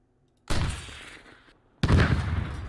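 Two heavy booms from a Squad heavy anti-tank rocket: a loud launch blast with a decaying tail, then about a second later a second powerful impact hitting a tank, both close and alone without talk.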